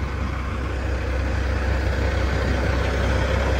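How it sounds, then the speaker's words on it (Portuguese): A steady engine drone with a low rumble, holding fairly constant throughout, close and continuous with no voices. "Acelerando."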